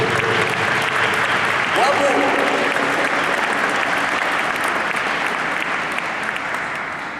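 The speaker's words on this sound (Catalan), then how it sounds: "Un aplaudiment" An audience in a church claps steadily for several seconds, loud and dense, fading slightly at the end, with a voice calling out briefly over it.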